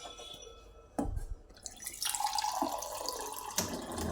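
Water filter switching on and running, with a stream of water splashing and dripping into a container, starting with a sharp knock and rising into a steady near trickle with occasional clinks.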